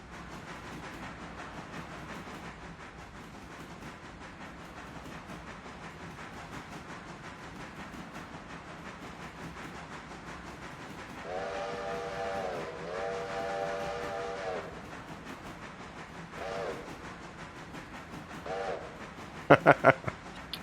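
A passenger train in the Railroader railway game runs with a steady low rumble, and a steam whistle sounds in two long, moderately loud blasts midway, with short toots near the end.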